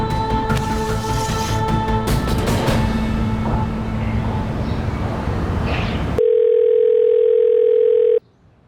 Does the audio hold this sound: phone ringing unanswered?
yes